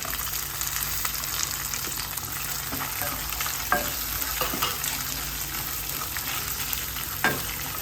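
Sliced shallots and green chillies fry in a pan with a steady, dense sizzle throughout, while faint stirring clicks and scrapes poke through now and then. No voices are heard.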